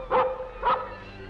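Prince, a newly adopted dog, lets out two quick barks close by, a half-second apart, with no talk over them.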